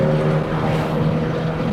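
A Volkswagen Beetle fitted with a naturally aspirated 2.0 AP engine holds a steady, droning rev at about 3,400 rpm, loud and close, with a buzzing hum throughout.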